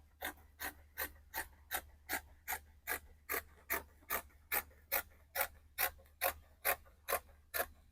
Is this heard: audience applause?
no